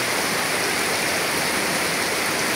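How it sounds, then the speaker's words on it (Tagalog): Floodwater from an overflowing creek pours over a bridge, a loud, steady broadband rush of churning water with no break, close by and alone. "hingapaw ang tulay. Ang sapa."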